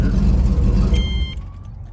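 A 1981 Pontiac Trans Am idles loudly up close, its steady low engine rumble filling the clip before it softens and thins out near the end.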